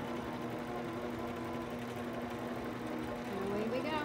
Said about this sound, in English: when I touch start, it's going to resume quilting exactly where it stopped